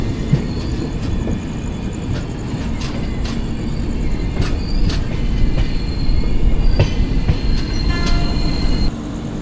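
Matsyagandha Express passing at Pernem station in India, loud and close, with continuous rumble, rhythmic wheel clatter and occasional high metallic squeals as the carriages roll by.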